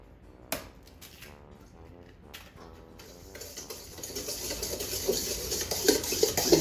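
Pineapple stuffing mixed by hand with a dough whisk, a soft wet stirring and squishing that starts after a few sharp clicks and grows gradually louder and busier toward the end.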